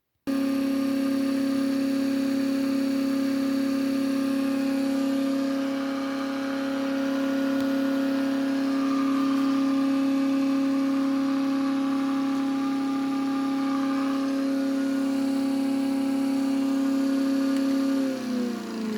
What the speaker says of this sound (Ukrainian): Тепер я замість цього двигуна включаю двигун, на який навантажено 7 катушок.